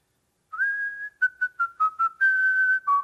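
A person whistles the tune Yankee Doodle alone, with clear, close notes that start with a long held phrase, move into short separated notes and end on sustained tones.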